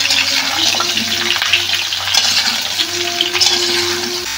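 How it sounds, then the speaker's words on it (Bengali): Mango pieces fry in a pan with oil for a sweet, sour and spicy pickle, giving a steady sizzle and crackle throughout while they are stirred and scraped around the pan. "এবার এরকম নাড়াচাড়া করে আমগুলো 5 মিনিট ভেজে নেব।"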